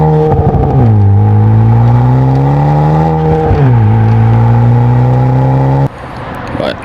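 A 2018 Honda Civic Si fitted with a Remark catback exhaust revs loudly up close, holding a steady droning note with two brief dips and recoveries before the engine drops abruptly toward idle.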